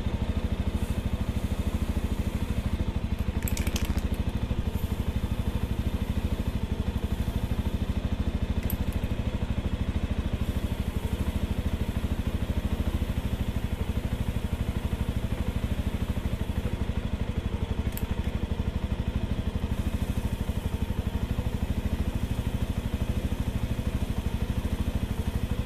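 A Bajaj Avenger 220 Cruise motorcycle idles steadily and close for a long stretch during chain cleaning and lubrication, with a constant low engine drone and a few faint metallic ticks.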